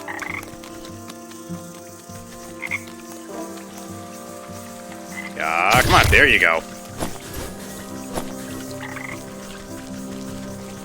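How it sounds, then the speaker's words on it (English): Frogs croak in a game world with standing stones, producing short, repeated croaks at a moderate distance against a continuous ambient background, while a voice talks over the middle of the clip. "I hear frogs."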